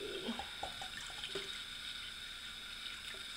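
Water runs from a tap into a measuring cup, a soft steady stream with a few light splashes near the start, quiet and close with no voices.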